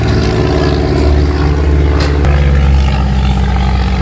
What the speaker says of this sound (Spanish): Mira la avioneta otra vez, mira esto, la avioneta con publicidad de un banco acá.